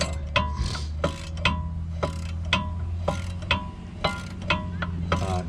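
A ratchet clicks in a steady series of sharp pawl ticks, about ten strokes, close up, as the last caliper mount bolt comes off the rear brakes of a 1997 Cadillac Seville SLS, over a low steady hum.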